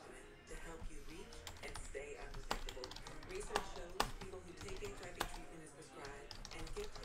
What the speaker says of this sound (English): let me type these hits in here